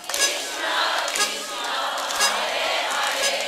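A devotional crowd chants Hare Krishna together, loud sustained massed voices with rhythmic swells and some clapping, filling the space continuously.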